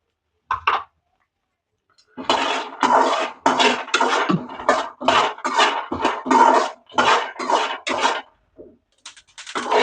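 Peanuts dry-roasting without oil in a kadai give close, loud bursts of rattling and scraping as they are stirred, coming in quick repeated strokes with short pauses between.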